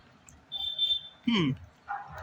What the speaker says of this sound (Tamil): எங்க பாருங்க இப்பவே 3 நாய் சுத்து போட்டுருச்சு என்னைய.